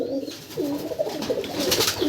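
Pigeons at a pigeon farm, some with chicks, coo in low, throaty rolling bursts that overlap continuously at close range over a dense, busy background.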